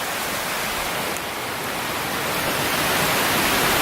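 Grayville Falls cascade rushes continuously, a dense, even wash of falling water heard from a small bluff above it, with no other sounds.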